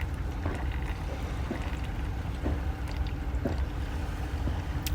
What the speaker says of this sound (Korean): 앞에는 파도 소리만 들립니다.